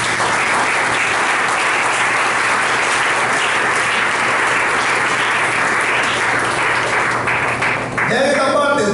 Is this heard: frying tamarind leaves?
no